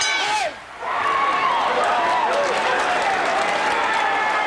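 Crowd at a kickboxing match between Don Wilson and Dennis Alexio roars with cheering and applause, a loud dense wall of voices and clapping that dips briefly near the start, then swells and holds, with whistles and shouts poking through.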